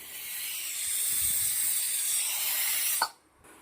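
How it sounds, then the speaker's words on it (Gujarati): A pressure cooker of boiling chickpeas hisses steadily as its whistle vents steam, a loud sustained rush that cuts off abruptly near the end, followed by near quiet. "કુકરને બંધ કરી દઈશું અને 5 સીટી મારી દઈશું"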